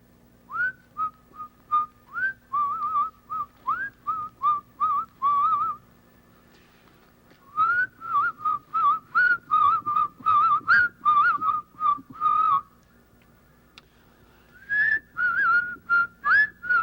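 A person whistling a tune in quick, bright phrases of short repeated notes, fairly close and clear, with pauses between runs and no talking.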